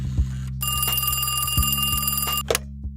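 An old-time radio mystery drama's telephone bell rings loud and close in one long continuous burst. The ring is surrounded by steady background hum and brief knocks, with no talking.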